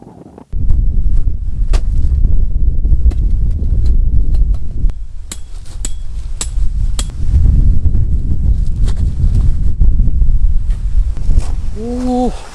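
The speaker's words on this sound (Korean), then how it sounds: "바람은 계속 불고 있고" Strong wind buffets a rainy campsite with a pop-up tent, a steady loud roar and rumble of gusts against the microphone running throughout, with a few sharp flaps and knocks.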